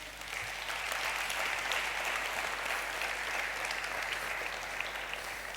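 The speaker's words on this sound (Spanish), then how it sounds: "Dan un aplauso al Rey." A church congregation applauds during a sermon, a steady wash of many hands clapping together, moderately distant and continuous for the whole stretch, with no voices rising above it.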